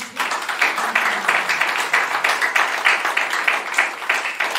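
Crowd applause welcoming General Amuli at a formal ceremony in Ituri, loud and continuous clapping with a steady pulsing rhythm throughout.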